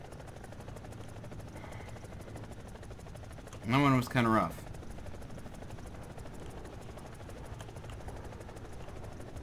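EC-665 Tiger helicopter in War Thunder, a faint steady rotor and engine drone running under a brief spoken remark from one person.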